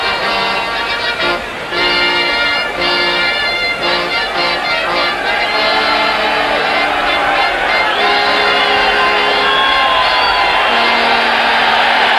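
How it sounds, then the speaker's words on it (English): A large boxing-arena crowd roars and cheers as British champion Henry Cooper heads to the ring before facing Cassius Clay, with loud, sustained shouting and whoops throughout. "And now the big cheer goes up."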